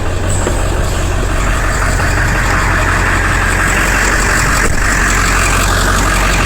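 A Ford 7.3-liter diesel truck engine idles steadily and smoothly, a loud, continuous low rumble with a faint rattle on top, close by and heard alone without any talking.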